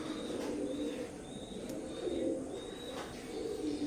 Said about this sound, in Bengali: স্ক্রিনে এখন যে কবুতর জোড়া দেখতে পাচ্ছেন দুই ফেদারের ওমান ব্লাড লাইনের কবুতরগুলো